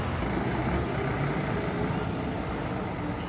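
City bus pulling out of the station on a trip to Aparecida do Norte, São Paulo, with a steady, loud low diesel engine rumble and a faint hiss of air brakes over the top.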